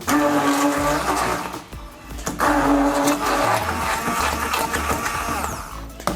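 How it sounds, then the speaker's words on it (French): A countertop blender whirring steadily as it purees hummus with lemon juice, loud and close, with a brief dip in motor pitch partway before it resumes its grinding drone. "Et là, on va mixer. On continue de mixer le tout."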